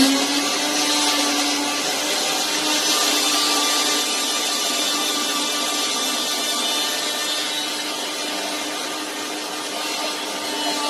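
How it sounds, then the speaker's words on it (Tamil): A mixie jar grinder whirs loudly and steadily as it grinds tomatoes, a constant high-speed motor roar that holds unbroken from start to finish with no talking. "மிக்ஸி ஜார்ல போட்டு அரைச்சு அப்படியே ஊத்திடுவேன்"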